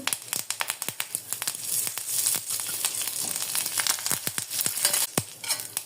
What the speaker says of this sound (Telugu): ఎండుమిర్చి వేస్తున్నాను ఆవాలు జీలకర్ర కరివేపాకు